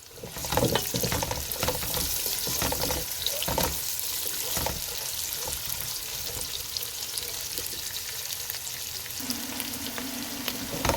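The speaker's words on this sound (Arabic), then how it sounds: "يلا هنقلب بقى البصلة" Onion frying in a pan and being stirred, a steady broadband sizzle with scraping stirs throughout, close and fairly loud, with some watery running sound mixed in and a low hum near the end.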